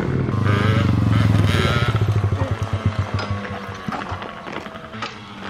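A Suzuki DS80 motorcycle engine revs up close, then drops into a loud, choppy two-stroke idle with a steady pulsing beat that fades slightly toward the end, with no voices.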